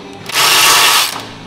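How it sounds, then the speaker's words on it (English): An impact wrench with a half-inch socket spins on a bolt of a 1950 Chevy pickup truck in a single loud, whirring burst of just under a second. "socket with the impact and a wrench"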